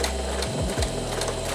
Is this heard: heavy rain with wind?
no